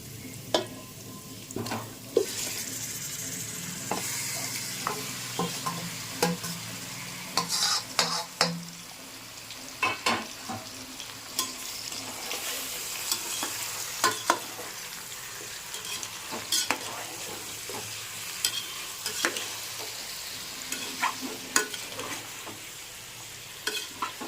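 Marinated chicken for a Muslim-style chicken biryani fries in a pan while being stirred, with a steady close sizzle and frequent scraping clinks of a utensil against the pot throughout.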